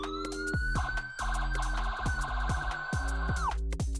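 A police-style siren sample for UK garage music production wails in a steady rising and falling tone over a punchy drum and bass loop, loud and upfront for about four seconds before the siren drops away.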